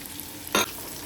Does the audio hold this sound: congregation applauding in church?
no